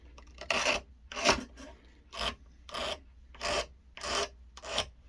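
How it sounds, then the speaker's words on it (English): Hand file rasping burrs off the cut edge of aviation tin snips: seven evenly spaced, close, scratchy strokes in a steady back-and-forth rhythm, with no talking. "this is cutting off the burrs from the tin snips, or proper name, aviation snips"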